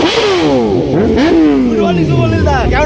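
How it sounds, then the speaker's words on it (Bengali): A BMW superbike roaring past on a road, its engine pitch dropping sharply as it sweeps by, followed by a second passing engine fading away, with people talking excitedly over it. "ভাই বিএমডব্লিউ আসছে বিএমডব্লিউ বিএমডব্লিউ সুপারিল্লা সুপারিল্লা"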